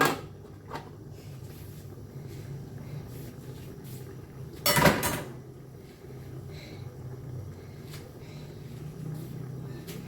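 A single metallic clank of a lid set onto a frying pan around the middle, over a steady low kitchen hum and faint background noise, while stir-frying mixed vegetables with pork.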